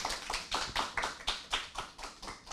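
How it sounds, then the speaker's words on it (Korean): Audience applause at an academic policy conference in a lecture hall, here heard as about eight distinct, evenly spaced handclaps, fairly faint and sharp, with no talk over them. "큰 박수 부탁드립니다."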